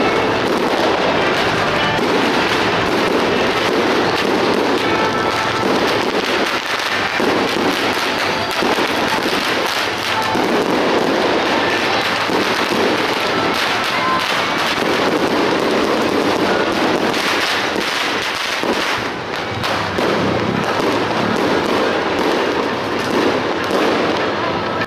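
Firecrackers and fireworks crackle and pop in dense, continuous bursts along a street during Phuket's Vegetarian Festival, loud and close, with a street crowd and some voices mixed under the barrage.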